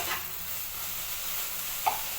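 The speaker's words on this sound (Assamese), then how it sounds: "মই বেছি ফুল গেছত ভজা নাই, একদম চিমত থৈ পেলাই ভাজিছোঁ।" Small fish with raw ginger and garlic frying gently in oil over low heat, giving a steady soft sizzle with a faint stir or clink near the end.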